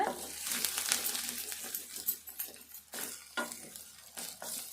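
Chicken and onions cook in a pan, giving a steady sizzle broken by the scrape and clink of a spoon stirring in irregular strokes, close and moderately loud with no talking.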